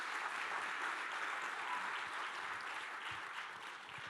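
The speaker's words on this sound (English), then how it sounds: "Please give her a warm round of applause." Sustained audience applause at a corporate sustainability report launch, a dense even wash of many hands clapping that fades slightly toward the end, with no speech over it.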